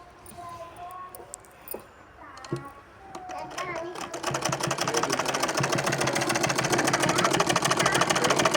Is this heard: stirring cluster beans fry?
no